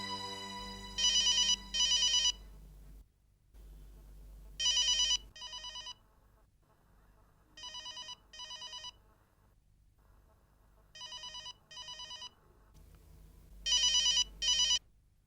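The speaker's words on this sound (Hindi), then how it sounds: "विशाल ने फोन काट दिया।" A telephone rings in a domestic TV drama scene, loud and close, in repeated double bursts of bright electronic trills separated by short pauses, with no talk over it.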